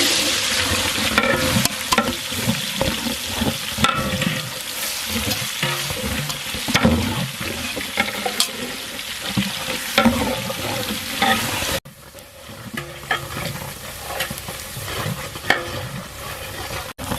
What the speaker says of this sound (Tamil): நறுக்கின வெங்காயத்தை நம்ம இதில் இப்போ போட போகிறோம்.